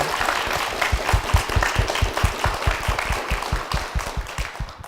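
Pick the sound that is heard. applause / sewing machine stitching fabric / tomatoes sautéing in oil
applause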